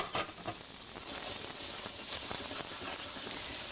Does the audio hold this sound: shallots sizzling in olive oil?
yes